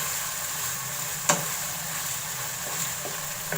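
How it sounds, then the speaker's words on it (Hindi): Ginger garlic paste frying in hot oil, a steady close sizzle with faint stirring scrapes and a couple of sharper clicks from a utensil against the pan; no voices. "इसको भी मैं जब तक उसमें से खुशबू आने लगेगी तब तक फ्राई करूँगी।"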